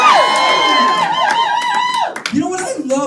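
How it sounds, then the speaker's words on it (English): A live audience at a positive-leadership talk cheers and whoops loudly, with clapping mixed into a dense, sustained crowd roar. "Give yourself a good hand clap and take a seat."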